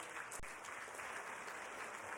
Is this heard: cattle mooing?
no